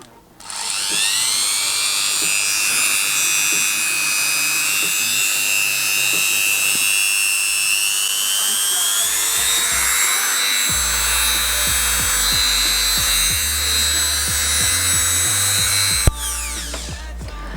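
An electric rotary engraver from a 300-piece engraving kit whines continuously close by at a low speed setting, a high motor tone that shifts slightly in pitch, then cuts off with a click near the end.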